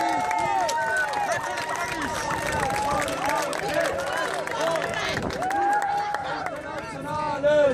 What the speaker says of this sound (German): Ein kleiner Applaus für alle Leute